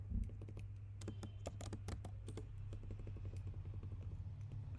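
Typing code for a React JS tutorial on a computer keyboard, with a run of quick, close key clicks in uneven bursts over a steady low hum and no talking.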